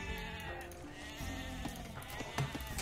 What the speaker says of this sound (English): Two more sheep.